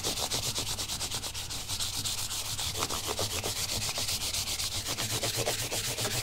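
Steady back-and-forth rubbing of a sanding sponge on a cheap secondhand junk guitar, a continuous close scratchy scrub with a fast repeating rhythm and no talking.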